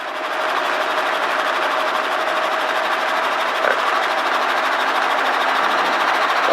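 Steady, loud whine and drone of a helicopter engine as the throttle is raised, holding an even, continuous tone with a faint tick partway through, and no voices.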